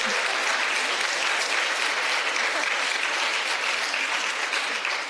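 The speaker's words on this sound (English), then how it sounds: "That is worth applause." Sustained audience applause fills a campaign rally with Jill Biden and Gwen Walz, dense and steady throughout at close range, with a faint murmur of crowd voices mixed in and no clear speech.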